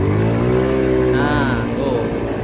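An automatic scooter engine with a slipping pulley is revved hard at full throttle, holding a loud, steady, high-pitched drone that climbs briefly and then stays up, close by.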